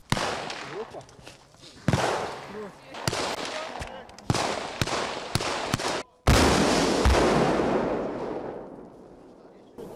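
Loud, sharp gunshots crack out at irregular intervals during National Guard weapons training, some single and some in quick pairs, followed by a long booming burst that slowly fades.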